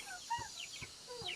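Chickens at a rural house give a few soft clucks and short calls, faint and close-by, scattered across a quiet moment with no talking.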